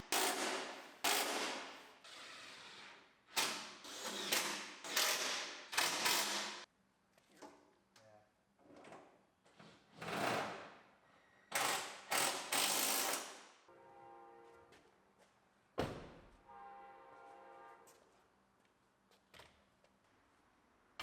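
A hand ratchet bolts a fender onto a GMC Yukon during a frame-swap rebuild: repeated bursts of rapid, close mechanical clicking, separated by short pauses and a few clanks of tools and metal.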